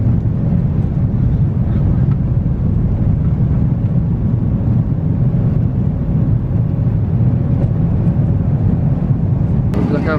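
Steady, loud low cabin drone inside an airplane flying into Las Vegas during a storm, a constant broadband roar with no breaks across the whole stretch.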